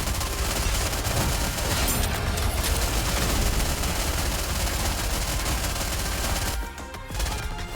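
Dense, sustained volley of rapid gunfire and explosive bursts from a mobile game's boss fight, loud and continuous for several seconds before briefly dropping out and resuming.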